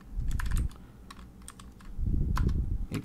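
Code is typed into Android Studio on a computer keyboard: rapid, close keystroke clatter comes in two dense bursts with a brief lull between them.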